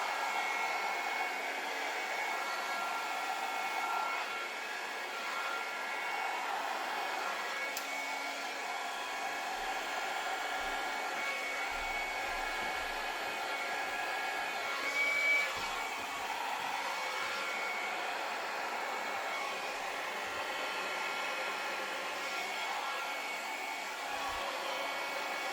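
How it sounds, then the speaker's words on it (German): A hair dryer blows steadily across wet acrylic pour paint worked with copper bronze, a continuous close whirring hiss that holds for the whole stretch with only slight wavering and no talking. "Und das Ganze werden wir jetzt mit unserem Föhn ausblasen."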